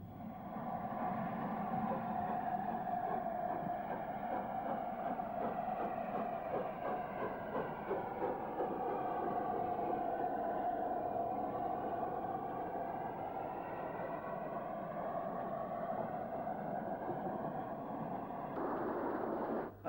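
A three-cylinder Class 02 steam locomotive departs, giving a steady, loud mechanical rumble with a faint rhythmic beat for about twenty seconds and a brief change near the end, with no voices.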